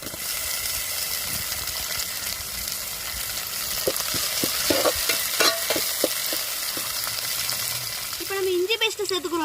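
Sliced big onions, tomatoes and curry leaves fry loudly in a pan for a crab gravy, a dense sizzle broken by repeated scraping stirs, with a hissing burst near the end; no one speaks.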